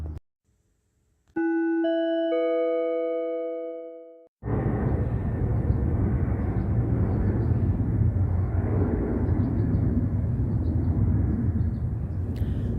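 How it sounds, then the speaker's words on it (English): An airplane flying overhead at early morning, heard as a steady broad roar that begins abruptly after a brief electronic chime-like tone and continues loudly and evenly, with no talking. "It's the sound of the plane."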